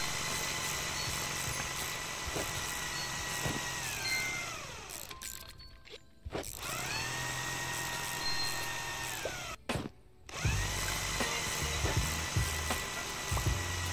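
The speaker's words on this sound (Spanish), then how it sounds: "Aquí estamos atornillando todo esto." Parts are screwed together in the House Builder video game: a power screwdriver whirs in long bursts, its pitch winding up and dropping off between a couple of short pauses, loud and close.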